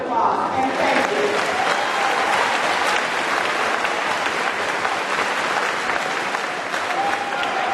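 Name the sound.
audience applause at high school graduation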